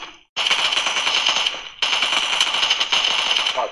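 Rapid automatic gunfire in the mobile battle royale game PUBG Mobile, two loud sustained bursts separated by a brief pause, close and dense, with no talking.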